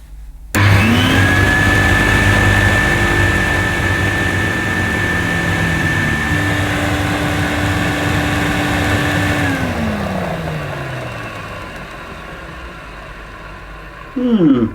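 A 1970s Electrolux 502 upright vacuum cleaner motor starts and runs steadily with a smooth whine that shifts pitch partway through, then winds down near the end before a brief restart click.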